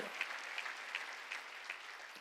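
Congregation clapping during a church Sunday worship service, with a few sharper rhythmic claps standing out over a steady, moderately loud wash of applause.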